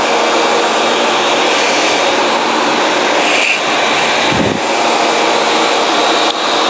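A bandsaw running steadily through a double stack of ceiling insulation, a loud continuous whir of blade and motor with a brief dip midway, no talk.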